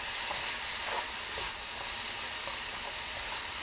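Garlic and peppers sizzle steadily in a hot pan for drunken noodles, a continuous close hiss with faint crackles and no talk.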